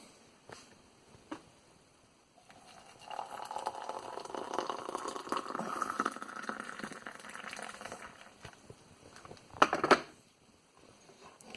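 Masala spice tea ingredients pour into a pot with a soft, steady liquid rush lasting several seconds, faint and close, ending with a brief clatter.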